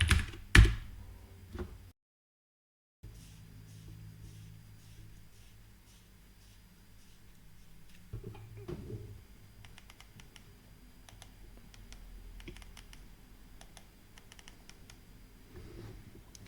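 Keys tapped on a small PicoCalc handheld computer keyboard, a quick burst of clicks at the start, then sparse faint taps over a low hum, with a brief silent gap.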